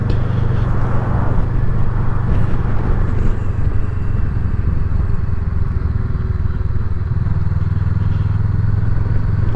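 Honda CMX500 motorcycle on the road, its engine a loud continuous low drone with wind rush, holding steady over the whole stretch.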